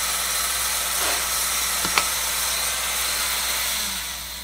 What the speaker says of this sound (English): Really wanted to take my time with that because of using a Dremel.